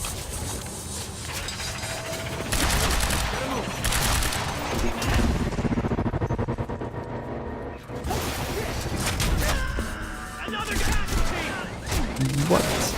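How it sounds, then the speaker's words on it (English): Rapid gunfire rattles in dense bursts during a firefight with large numbers of enemies in the video game Quantum Break, loud and continuous with mechanical clatter and game effects layered throughout. "Don't mind me just shooting in front of you."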